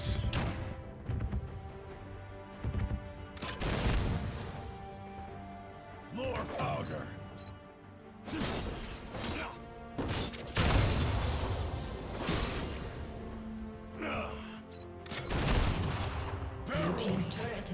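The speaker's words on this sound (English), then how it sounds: "Cannons!" League of Legends gameplay with Gangplank fighting Garen in the top lane. Bursts of cannon fire and booming impacts repeat in clusters over game audio, and voices are heard between the blasts.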